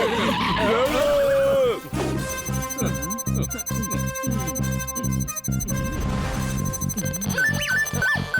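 A cartoon vehicle brakes and skids with a high, wavering squeal over a rumbling engine, followed by clattering cartoon effects and music.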